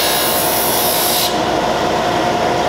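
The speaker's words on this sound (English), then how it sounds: "Simply flex the strip up against our sanding disc." A thin bamboo strip is pressed and flexed against a spinning sanding disc, a loud continuous abrasive rasping grind that changes to a duller tone partway through, with no voices.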